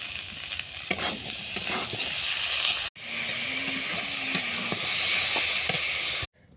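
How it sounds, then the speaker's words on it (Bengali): Potato pieces fry with salt and turmeric in a pan for a ridge gourd and potato curry, a loud close sizzle with repeated stirring scrapes that pauses briefly midway. "ঝিঙ্গে আলুর তরকারি করার জন্য আলুটাকে নুন হলুদ দিয়ে ভেজে নিচ্ছি"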